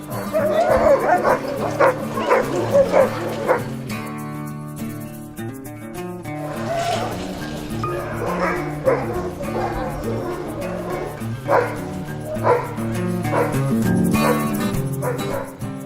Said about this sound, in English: You saw the sled dogs.